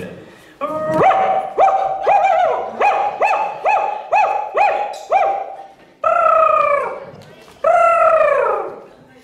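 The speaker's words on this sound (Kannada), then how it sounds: "ಕಂತ್ರಿ ನಾಯಿ ಕಾಟ" A stray dog barks loudly and close by in a quick run of about ten sharp, evenly spaced barks, then gives two longer, drawn-out yelping barks.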